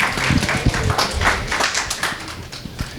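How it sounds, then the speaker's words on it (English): Audience clapping for a police chief and deputy chief at a community policing meeting in a hall, a brief, steady patter of many hands that thins out toward the end. "So if you can give a round of applause to my chief and deputy chief that just showed up."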